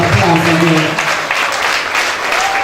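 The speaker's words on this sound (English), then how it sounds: "we need to give them a round of applause again." An audience at a Christian kindergarten prep school graduation claps for the graduates, a dense, even round of applause with a voice speaking over the start.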